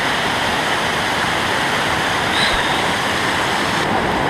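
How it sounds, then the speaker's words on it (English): A river with many small waterfalls along a Black Forest trail produces a steady, loud, unbroken rush of tumbling water close by, filling the whole scene with no pauses. "Look at all these little waterfalls."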